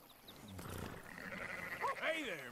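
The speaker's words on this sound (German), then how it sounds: "Mit seinen Merino-Schafen." Merino sheep in Red Dead Redemption 2 let out a couple of wavering bleats near the end, rising over a steady bed of game ambience and background noise.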